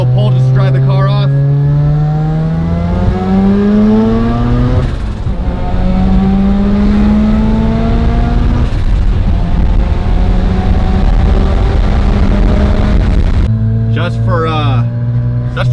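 Mazda RX7 engine fitted with rolling anti-lag, loud and close as it accelerates hard through several climbing gears with sharp shift breaks, then drops back to a rough idle.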